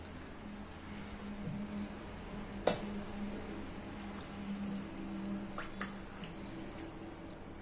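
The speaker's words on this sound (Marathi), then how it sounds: "स्वच्छ पाण्याने आपण 2-3 वेळा धुवून घ्यायचे" Water sloshes and drips softly as wild field mushrooms are rinsed by hand in clean water, with a sharp splash midway and gentle trickling throughout.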